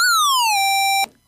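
Nightlife VSTi synth with only oscillator 2 running and sync off: a steady bright tone whose pitch glides downward over half a second, then holds level before cutting off abruptly after about a second, alone with no voices.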